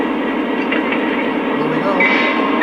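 A Lionel Great Northern SD45 model locomotive starts up with a steady mechanical rumble and whir, fairly loud and close. A brief brighter electronic tone appears near the end.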